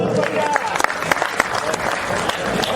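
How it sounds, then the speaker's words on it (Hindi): Loud applause rises from the audience at a Hindi kavi sammelan, the poetry-recital crowd clapping hard, with scattered sharp claps, crowd noise and voices mixed in. "और एक बार जोरदार तालियां बजाओ।"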